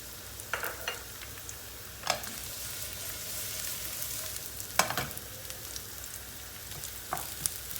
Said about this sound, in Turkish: Yağ ısınmaya başladığı gibi hemen soğanını ilave ediyoruz.